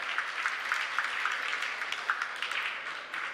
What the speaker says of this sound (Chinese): 再给他们掌声好吗